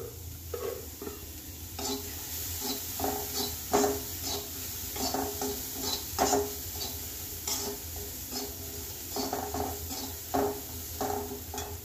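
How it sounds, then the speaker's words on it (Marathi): Small grated carrot sautéing in a pan, with a soft continuous sizzle and repeated irregular scrapes and knocks of a stirring spoon against the pan, close and steady throughout. "आता यातच आपल्याला ग्रेट केलेला छोटासा गाजर घेतलेला आहे, हाही परतून घेऊया"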